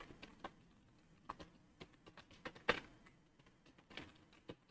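Light, irregular keystrokes tapped on a computer keyboard, quiet and close, with scattered clicks and one sharper press midway, and no talking.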